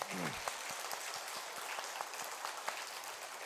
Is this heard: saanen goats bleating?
no